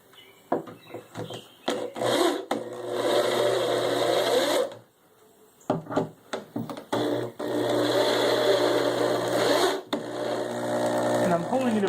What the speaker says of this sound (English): Now I'll go ahead and drill them down.